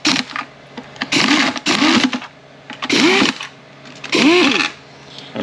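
A power tool driving 13 mm bolts into an 8F40 transmission case, several close bursts of whirring with rising and falling pitch, separated by short pauses.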